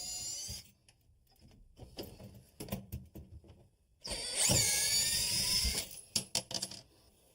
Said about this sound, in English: Now the countertop is screwed to the base, so there's a series of screws I'm going to remove,